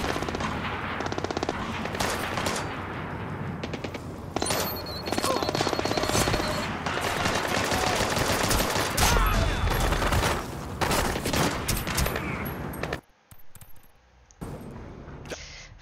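Rapid gunfire in the stealth video game Splinter Cell Blacklist, loud dense bursts running almost continuously for about thirteen seconds before cutting off into a few scattered shots.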